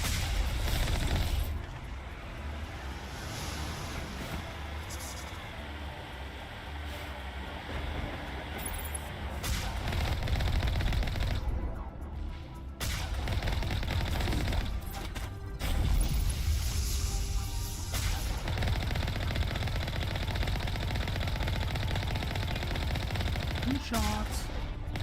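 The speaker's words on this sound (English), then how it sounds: "Shots." Sustained gunfire in the sci-fi shooter game Mass Effect, dense bursts rolling continuously for most of the stretch with brief lulls, fairly loud, with voices talking intermittently over the shooting.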